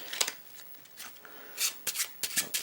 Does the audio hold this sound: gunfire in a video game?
no